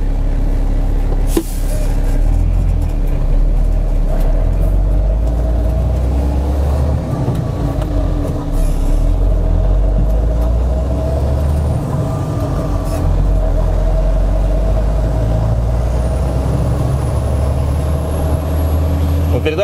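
Heavy URAL Next truck tractor with a 16-speed gearbox rumbling as it pulls away, a loud, steady low diesel drone running throughout with a brief thump early on and voices talking over it.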